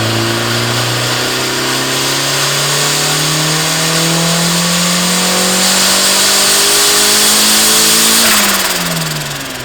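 Turbocharged stock Mazda Miata engine with a CX turbo kit revving hard under boost, a loud rising engine note climbing steadily for about eight seconds before dropping off, with no talking.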